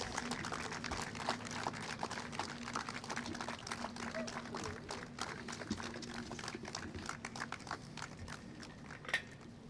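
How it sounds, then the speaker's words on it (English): An outdoor crowd at a Riverside County flag-raising ceremony for Child Abuse Prevention Month keeps up dense, steady clapping, with faint voices underneath. "You can go ahead and clap the whole time while it's going up."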